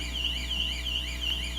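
A car-style alarm wails without pause in a church Bible-school class, its rising and falling electronic tone repeating steadily and loudly over a low constant hum.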